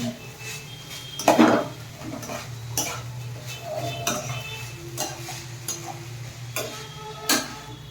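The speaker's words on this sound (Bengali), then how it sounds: "মাংসটাকে লাল লাল করে ভেঙে নিচ্ছি যাতে কাঁচা কাঁচা আপনার না থাকে" Chicken meat is stir-fried and broken up in a pan while making chicken soup at home: scattered metal scrapes and clinks of a spatula against the pan over a low, steady background, with one louder clatter early on.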